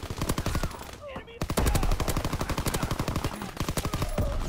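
PPSh submachine gun rapid-fire in a Call of Duty match, long loud bursts of automatic shots with a brief pause, a game voice or sound cue faintly mixed in.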